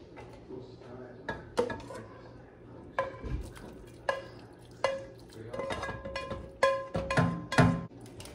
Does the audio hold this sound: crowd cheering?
no